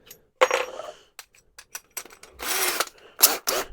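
A spade bit is fitted into a drill chuck with close, sharp metallic clicks and a short ratcheting whir as the chuck is tightened, broken by brief rattles and pauses.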